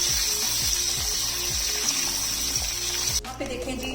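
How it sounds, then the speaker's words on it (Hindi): Boiled eggs frying in hot oil for an egg and potato curry give off a steady, close sizzle with bubbling texture, joined near the end by a louder clatter of movement in the pan. "यहाँ पे देखें जी, अंडों को ऑयल में फ्राई होते तकरीबन 2 मिनट हो गए हैं।"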